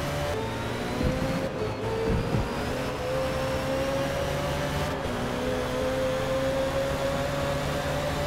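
Race car engine in a racing video game held at full throttle, a steady rising whine with a dense low drone running continuously throughout, loud and close with no talk.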